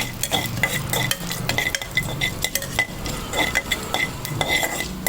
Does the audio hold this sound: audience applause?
no